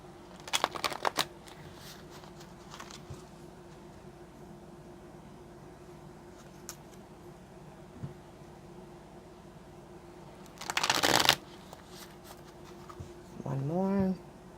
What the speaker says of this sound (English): Let's give it a shuffle.